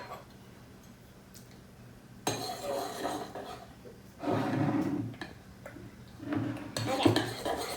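Fluffy slime being mixed in a bowl after food coloring is added, bursts of scraping and clinking from the stirring utensil against the bowl between quieter pauses, with faint breathing.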